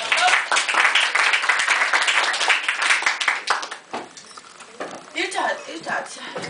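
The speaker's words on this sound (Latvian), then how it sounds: "Aplaus!" A small audience bursts into dense clapping for about four seconds, then the applause thins out as voices take over.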